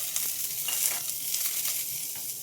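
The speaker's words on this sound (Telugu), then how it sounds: "మనము కాస్త కరివేపాకు పడేద్దాం ఇట్లా" Curry leaves are dropped into hot oil with already-fried tempering spices for a yellow cucumber curry, giving a steady crackling sizzle with sharp pops and occasional stirring, close and alone.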